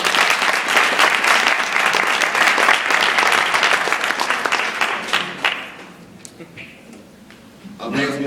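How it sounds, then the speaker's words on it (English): A student audience at a college Democrats versus Republicans debate breaks into loud, dense applause for about five seconds, then the clapping fades into quieter room noise and a voice begins speaking. "Let's give the Republicans a round of applause."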